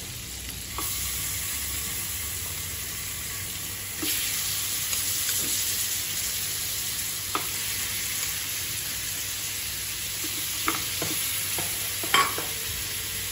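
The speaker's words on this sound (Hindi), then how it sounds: "त्याच्यात मी थोडंसं बटर टाकते आणि चिकनची पीस मी त्याच्यात शिजवून घेते" Chicken pieces cook in butter in a hot pan, giving a steady, even sizzle that runs throughout, broken by a few sharp utensil scrapes and clicks toward the end.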